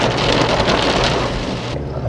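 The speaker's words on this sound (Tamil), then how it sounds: "மழை பாருங்க பிரித்து மேயுதுங்க." Heavy monsoon rain pours down on the forest near Valparai, a dense, steady hiss that fills the air close by with no talk, then thins slightly toward the end.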